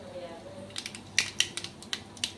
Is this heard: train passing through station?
no